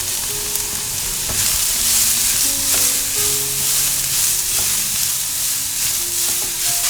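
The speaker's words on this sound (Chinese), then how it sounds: "放入一些油在锅里面，把姜末放进来爆香，大约炒了2分钟，" Minced ginger frying in hot oil in a wok, giving a loud, continuous crackling sizzle with occasional soft stirring knocks, close and with no talking.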